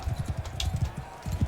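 Horse hooves clip-clopping in the video game Bannerlord, a quick, even rhythm of low thudding steps, fairly close, with a brief pause before the gait resumes.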